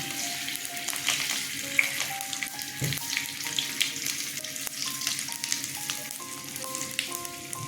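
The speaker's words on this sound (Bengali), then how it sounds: "দিলাম এখানে জিরে কালো জিরে আর মেথি তিনটে নিয়ে ফোড়নে দিলাম" Cumin, nigella and fenugreek seeds sizzling in hot oil, a dense continuous crackle close up with faint clinks, and a tonal hum stepping in pitch runs underneath throughout.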